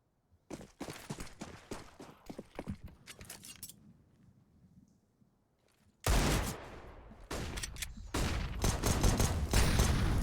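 Gunfire from an MP9 and pistols in the CS:GO match, played on Dust2. Scattered sharp shots and short bursts come at first and then fade to quiet. A dense, loud barrage of rapid fire follows.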